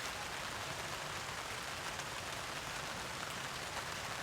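Heavy rain beats steadily on a camping tarp, a dense, continuous hiss of close drops with no pauses and no voices.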